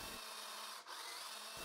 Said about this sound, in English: Once the glue dries, I drill a guide hole in each leg